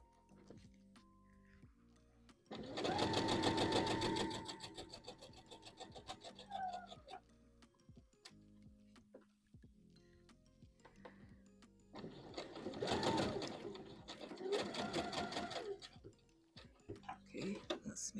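A sewing machine stitches a wrap dress in two rhythmic bursts, one early and one later, with quieter pauses between; someone talks quietly in the gaps.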